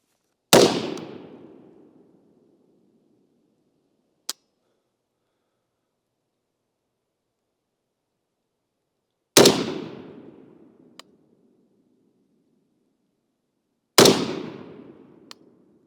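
Three loud, sharp rifle reports from an Adam's Arms gas-piston AR-type rifle firing 5.56 PMC ammunition, spaced several seconds apart, each with a decaying outdoor echo tail and a faint click between shots.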